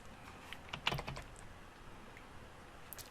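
Quiet computer keyboard typing in an indoor setting, a few scattered soft key clicks with one brief cluster of taps, otherwise near-silent.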